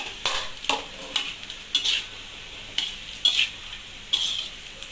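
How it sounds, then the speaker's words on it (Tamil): A cassava stir-fry gets vigorous stirring in a pan, with about ten rhythmic scraping strokes of a utensil against the metal over a soft sizzle, close up and without speech. "நல்லா கிண்டி விடுங்க"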